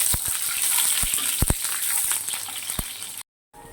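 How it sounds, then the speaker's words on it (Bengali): Sliced onions fry lightly in oil for do pyaza, a soft, even hiss of frying broken by a few sharp ladle taps against the pan, close by, with no talk, ending in sudden silence. "এবার দো পেঁয়াজের জন্য যে পেঁয়াজগুলো কেটেছি আমি, পেঁয়াজগুলো একটু হালকা করে ভেজে তুলে নেব।"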